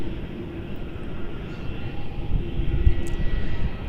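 Jetstar Boeing Dreamliner taxiing at Melbourne Airport: a low, steady engine rumble with a faint whine, growing slightly louder toward the end, with no talking.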